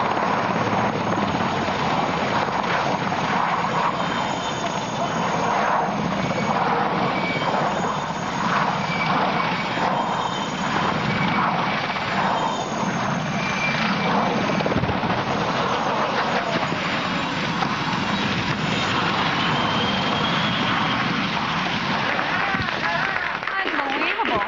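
A military helicopter in flight throbs and roars steadily at close range, a loud continuous rotor and turbine drone filling the whole stretch, with a voice faintly present beneath it.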